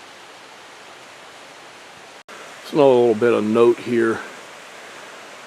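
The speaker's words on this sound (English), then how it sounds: "But creek's up a little bit," A creek runs high with snowmelt in a February woodland hollow, giving a constant broadband rush. Someone briefly speaks close over the steady water noise.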